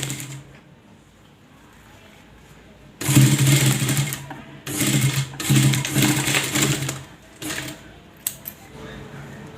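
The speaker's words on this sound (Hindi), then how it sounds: "इस तरह से कपड़े को फोल्ड कर पूरी सिलाई कर लेंगे इस तरह से।" A sewing machine stitches folded cloth for a small deity costume in several loud, close bursts of rapid whirring separated by short pauses, after a quiet start with a voice speaking softly.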